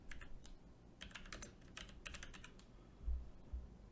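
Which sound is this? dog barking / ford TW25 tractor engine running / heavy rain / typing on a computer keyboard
typing on a computer keyboard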